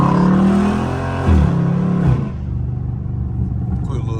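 Dodge Challenger Scat Pack V8 revving and pulling away in traffic, a loud rumbling roar that swells then drops back to a steady drone, with people talking over it.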